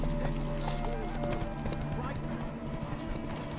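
Roach, the horse in The Witcher 3, galloping with a rapid, continuous clip-clop of hooves under ambient game sound while a voice talks over it.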